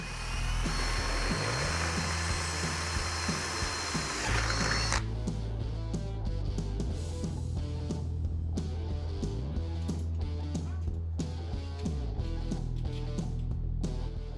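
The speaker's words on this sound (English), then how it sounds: "But we get some nice drilling noises." A power drill bores bolt holes for a DIY fridge slide mount, its motor whirring steadily with ratcheting, clicking mechanical bursts and shifting pitch as it bites, loud and close with no voices.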